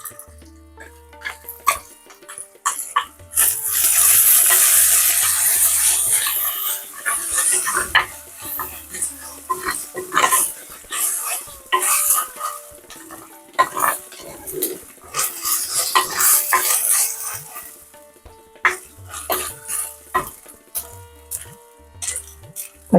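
Ginger garlic paste going into a clay pot of sautéed onions for venison masala, with loud clattering stirring and scraping bursts over a steady sizzle, carrying on without talk.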